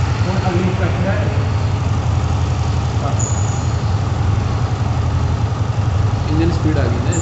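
A Yamaha MT 15 motorcycle engine idles at around 1300 rpm at its first service, a steady, close, low, throbbing pulse that holds an even rhythm throughout.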